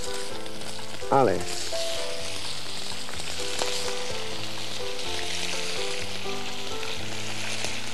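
Scallops seasoned with salt and pepper frying in a pan, a steady close sizzle running under background music, with one brief spoken word near the start.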